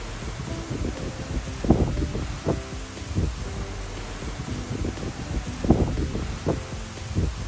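Strong wind gusts reaching up to 60 miles per hour in North Texas, a continuous rushing roar with repeated louder buffeting bursts striking the microphone.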